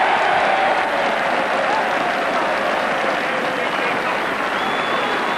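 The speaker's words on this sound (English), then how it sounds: "Generous applause." Crowd at a Schweppes Cup rugby match between Newbridge and Cardiff applauding a try, a steady, dense wash of clapping sustained throughout at fairly loud level with faint crowd murmur beneath.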